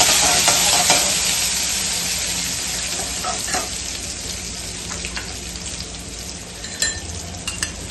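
Green chillies and garlic are stirred in a hot pan, a loud close sizzle with scraping spoon strokes and sporadic taps against the metal.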